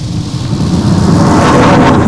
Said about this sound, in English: I found this metal ladder Foley directly on Ableton, pitched it down 12 semitones, and this is what we got.